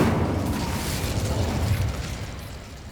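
A fire spell cast in the video game Hogwarts Legacy erupts as a loud, roaring whoosh and burst, holding steady for a few seconds before slowly fading, with no voices over it.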